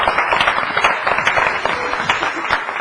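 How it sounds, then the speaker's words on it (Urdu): Studio audience applauding a contestant on a Pakistani morning TV show, a dense, continuous patter of clapping close by that holds steady for a few seconds. "بہت ساری تالیاں ان کے لیے"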